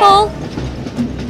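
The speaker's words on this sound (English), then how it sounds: "The train is still approaching." A cartoon train approaches along a track as the ground cracks, a rolling rumble opening with a brief horn-like tone and continuing under scattered noise.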